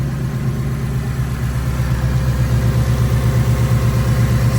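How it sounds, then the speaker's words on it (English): A 2024 Ford Mustang GT engine idles steadily up close, a low rhythmic rumble with a constant throb and no voices. "this thing sounds way better than a stock 22 Mustang"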